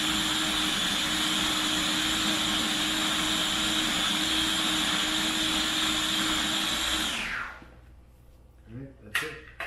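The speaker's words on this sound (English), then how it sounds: "I'm going to puree this a little bit smoother." A food processor purees chickpeas with tahini, its motor a steady, loud whir with a high whine. It cuts off abruptly after about seven seconds, followed by a few faint clinks.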